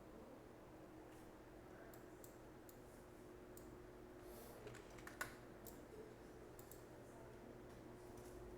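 Someone types on a computer keyboard while writing code, quiet scattered key clicks in uneven bursts over a steady low hum, with no talking.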